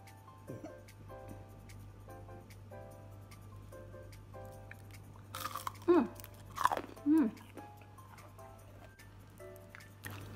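Crunchy cucumber fritters (bakwan) are bitten and chewed close to the mic, with a few loud crunching bursts in the middle of a quiet stretch that has some talking and background hum.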